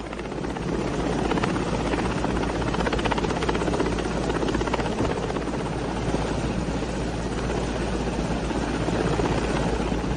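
An Indian Air Force helicopter on a rescue of children in Uttar Pradesh thunders close and loud, its rotor beating in a dense, continuous chop throughout.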